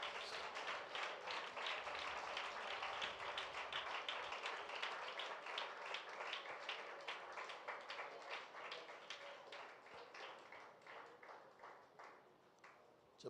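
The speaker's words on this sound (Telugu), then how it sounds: "బిగ్గరంగా చప్పట్లు కొడుతూ ప్రభునామాన్ని గణపరచుదాం" A church congregation at a fasting prayer service claps together in a quick, even rhythm, the many hands beating in unison and slowly softening over about thirteen seconds, heard fairly quietly with no speech.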